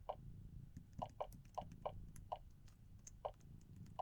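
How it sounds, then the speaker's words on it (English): A lever is pulled in the video game Exile III, giving a run of sharp, irregular clicks, nine or so in about four seconds, close and clear over a low murmur. "You pull the lever. It makes a nice, satisfying clicking sound."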